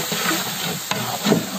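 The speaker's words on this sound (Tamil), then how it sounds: "கடைஞ்ச தயிர் சேர்த்துக்கிறோம்." Stirring churned curd into sizzling bun biryani masala in a pan, a steady frying hiss with soft scraping strokes and a brief clink near the middle, close and moderately loud.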